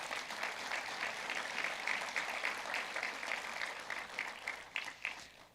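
An audience at the Junior Miss Cherokee competition applauds the contestants, a steady, distant patter of many hands sustained for several seconds and softening slightly at the end.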